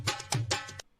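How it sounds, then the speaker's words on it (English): A tora, a dhol drum sample in a beat, hits in a quick few strokes, punchy and up close, then stops. "That's a dhol sound."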